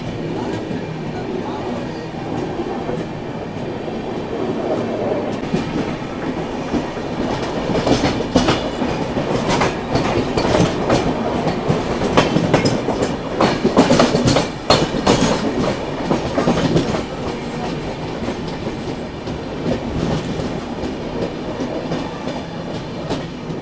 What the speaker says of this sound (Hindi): इसका टुंडला पे ऑफिशियल हॉल्ट है शताब्दी एक्सप्रेस का, इसलिए आराम आराम से यहाँ एंटर हो रही है